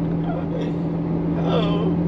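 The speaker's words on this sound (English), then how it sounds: "You got that Ferrari V12." Ferrari F12 TDF V12 engine while driving on a scenic road, a steady, full cabin drone with a constant low harmonic hum and no clear revving, heard from inside the car.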